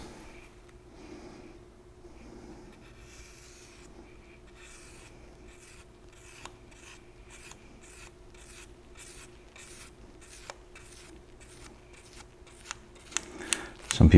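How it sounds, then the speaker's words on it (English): A spatula scrapes excess thermal paste across an AMD Threadripper processor in a steady series of short, rhythmic strokes, faint at first and growing louder toward the end, with no talking. "We'll come back with this spatula. Removing all my excess."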